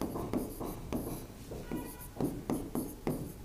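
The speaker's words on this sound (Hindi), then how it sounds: "मैं लिख देती हूँ" Pen strokes of handwriting on paper or a board while country names are listed for a world map, a quick run of scratchy, rhythmic writing bursts close up, with no talk.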